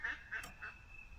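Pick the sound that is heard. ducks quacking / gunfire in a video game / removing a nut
ducks quacking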